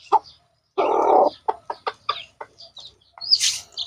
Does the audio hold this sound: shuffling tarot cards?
no